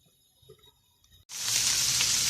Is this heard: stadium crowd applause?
no